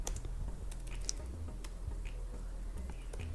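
Light clicks of fingers typing on a computer keyboard, scattered and soft over a low steady hum, close to the listener, with faint murmured speech under it.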